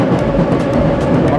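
A Moscow underground metro train rushes at high speed through a tunnel, giving a steady, loud, close roar with no pauses.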